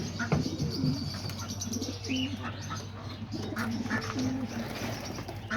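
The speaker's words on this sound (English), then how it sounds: "We have the white male pigeon sitting right here on the eggs." Homing pigeons in a loft coo repeatedly in soft, low rolling phrases at close range, with light chirps and a brief wing flutter over a steady background hum, and no talk.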